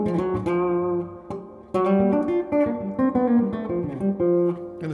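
Telecaster with Lollar El Rayo pickups on the rear pickup, tone rolled back: mellow, warm, muted chords and single notes played in a rhythmic, early-jazz style, clear and close with no talking.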